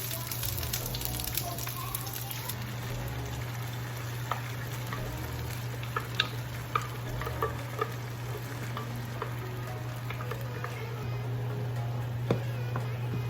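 Chopped onion frying in a pan before mole sauce goes in for chicken mole, a steady soft sizzle with occasional crackles and faint stirring, continuous and close under a low electrical hum.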